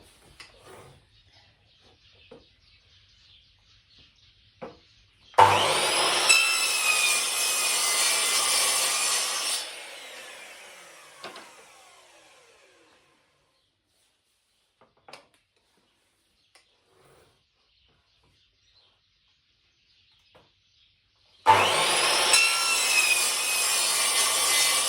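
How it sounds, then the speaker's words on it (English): A handsaw cuts through a wooden board to remove holes and an arch, making a burst of rapid rasping strokes, then a pause with faint taps and knocks, and a second run of sawing near the end. "So I'm just going to cut off the holes and the arch."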